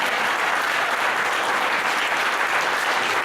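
Simple audience applause, a steady wash of many hands clapping at an even level for a few seconds, with no voices over it.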